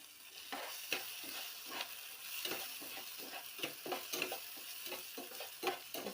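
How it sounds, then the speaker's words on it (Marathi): Curry leaves, chilli and tomato sautéing in a pan give a low, continuous sizzle, with soft rhythmic scrapes and taps of a stirring spoon repeating every half second or so, faint and close. "छान याला परतून घेऊ"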